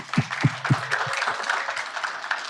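An audience claps for guests being introduced on a stage, a few loud separate claps up close at first, then a soft spread of scattered applause that carries on to the end.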